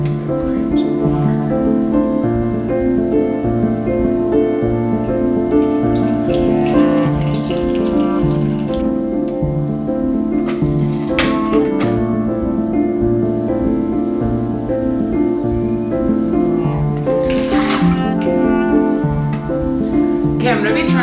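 Water runs steadily into a bowl for sourdough dough for a long stretch, a continuous pouring stream with faint clinks, while background music plays throughout.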